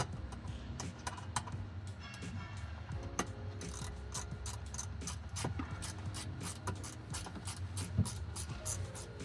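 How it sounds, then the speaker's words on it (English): A 1/4-inch ratchet tightening a dash bracket inside a Polaris Ranger 1000: quick runs of small, sharp, evenly spaced clicks, denser in the second half, over faint low background noise with no voices. "Then you can tighten up your dash bracket."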